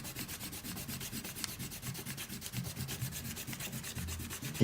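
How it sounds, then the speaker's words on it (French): An eraser rubs briskly over paper to remove pencil construction lines from a drawing, a fast, even rhythm of close, soft scrubbing strokes with no talking. "On peut gommer les traits de construction."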